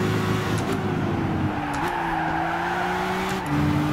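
Race car engine from the Gran Turismo 6 video game, a steady high whine that drops pitch at gear changes around each shift, loud and continuous with faint tire noise, no talk.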